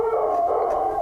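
A dog howls loudly and close by, one sustained, wavering tone held without a break, with no voices over it.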